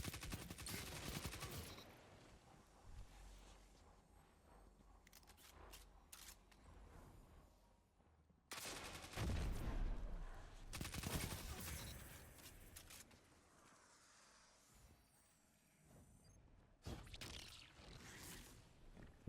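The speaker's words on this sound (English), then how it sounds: "This guy has a fusion rifle." Bursts of fusion rifle gunfire from the video game Destiny, with several loud, sharp volleys spread across the clip between quieter stretches of game sound.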